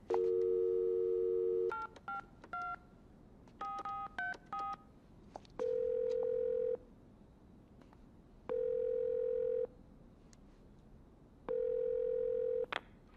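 Telephone dialing in a French horror film: a quick run of touch-tone keypad beeps, then steady dial-tone bursts repeating at regular intervals with quiet gaps between, clear and close with no talking.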